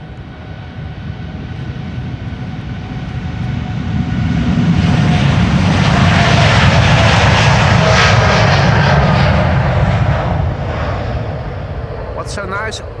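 A United Boeing 787 Dreamliner departs from Amsterdam Schiphol, its loud, broad jet roar swelling to a sustained peak near the middle and easing slightly at the end, with talk heard over the engines.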